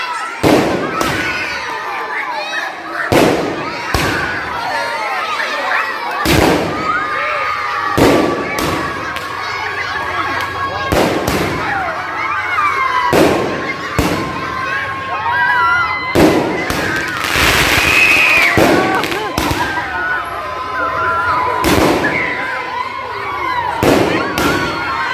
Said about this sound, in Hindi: तो काफ़ी सारे पटाखे छुड़ाए थे आज अपार्टमेंट में।